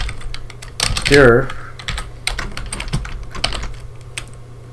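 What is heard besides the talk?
typing on a computer keyboard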